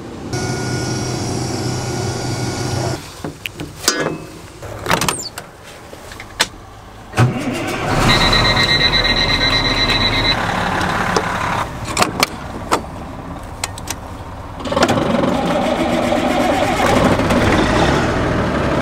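A combine harvester engine cranks and starts in the snow, then idles as it warms up: several loud starter bursts and clunks, then a steady rumbling idle with a high whine and intermittent knocks.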